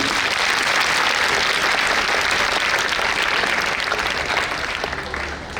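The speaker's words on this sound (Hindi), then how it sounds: "ताली बजाओ" Sustained crowd applause fills a hall during a Hindi spiritual sermon in Gondia, Maharashtra, dense and even throughout before tapering slightly at the close.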